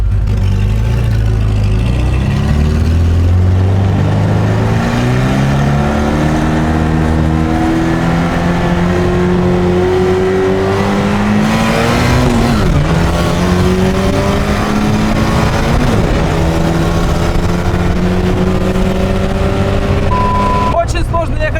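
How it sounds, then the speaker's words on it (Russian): A ZAZ 968M and a BMW accelerate from a rolling start in a street race, engine tones climbing steadily through gears under continuous road and wind noise, with people talking over it. "Очень сложно ехать ходом с BMW."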